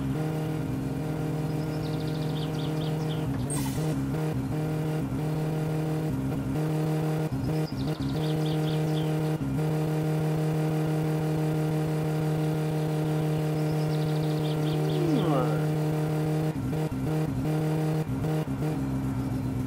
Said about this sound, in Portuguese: O carro vai quebrar, velho. Desse jeito aí.